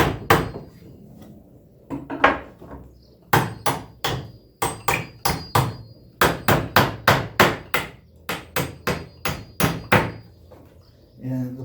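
A hammer bangs repeatedly on wooden boards while nails are pried out, sharp close knocks in uneven bursts and quick runs, loud against a quiet background with no talking.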